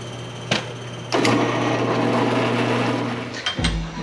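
A drill set slow at speed 340, with cutting lubricant, grinds steadily into metal after a couple of brief clicks, a continuous whirring bite lasting a few seconds, then stopping with a clunk, close and loud.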